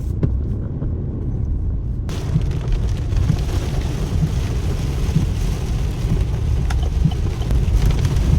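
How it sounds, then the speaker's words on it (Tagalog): A heavy rainstorm pours down hard and steadily at close range, a dense, loud roar of rain with deep rumbling undertones that intensifies after the first couple of seconds. "Grabe itong ulan na ito, hindi makatao."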